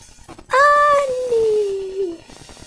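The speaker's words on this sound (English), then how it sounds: "Oh, yawny puppy." A two-year-old puppy yawns close by: one drawn-out, squeaky, whining yawn that slides slowly downward in pitch, heard alone over quiet background.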